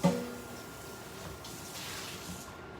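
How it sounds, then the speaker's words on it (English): Tap water runs steadily into a container while it is rinsed out, a continuous close, moderate splashing rush with no talking. "Rinse that out."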